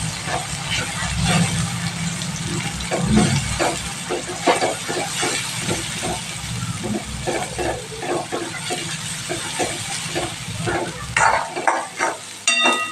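Eggplant sautéed in a pan with garlic paste, turmeric and coriander-cumin powder sizzles steadily while a spoon scrapes and stirs in quick, repeated strokes.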